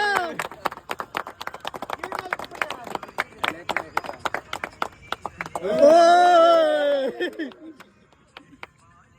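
A group claps rapidly at a birthday celebration, with sharp, uneven claps for several seconds before a loud voice rises and fades out.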